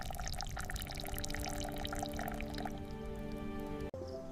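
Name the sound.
cola syrup dripping through a filter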